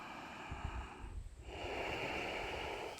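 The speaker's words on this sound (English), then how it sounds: "Let's take 2 more breaths." Slow, deep breaths drawn during a yoga class: a soft airy exhale fades, a brief pause follows, then a longer full inhale rises and holds, close and quiet, with no talking.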